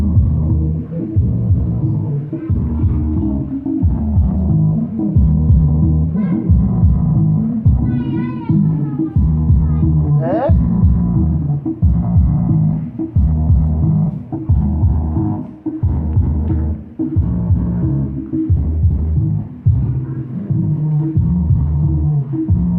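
Bass from a car subwoofer box in a VW Polo, held by only two screws and not sealed, thumps in loud, steady rhythmic pulses that throb and rumble without pause.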